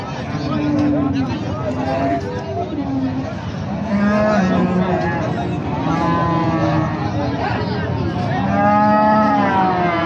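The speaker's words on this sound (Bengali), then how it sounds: "এরকম বেশ মোটামুটি কিছু গাভী উঠেছে।" Cattle lowing repeatedly at Raniganj livestock market, several moos of varying pitch spread across the stretch amid a busy crowd and nearby talking.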